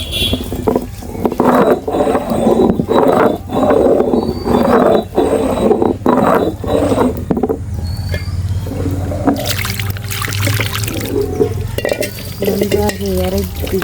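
Spices being ground by hand on a traditional ammi grinding stone for a fish pepper curry, a loud, close, rhythmic scraping and rolling of stone on stone that gives way to softer wet sounds and clatter.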